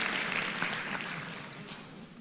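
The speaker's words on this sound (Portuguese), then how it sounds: "Uma salva de palmas para ele." Audience applause at a motivational talk, a dense wash of many hands clapping that fades slightly over two seconds, with no clear voices over it.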